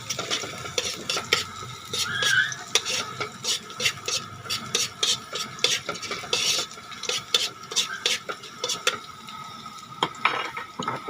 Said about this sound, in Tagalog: magigis pa ako ng sibuyas at bawang